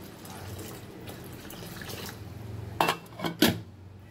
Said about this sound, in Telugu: ఇంకోండి ఇప్పుడు వాటర్ వేసుకుంటున్నాను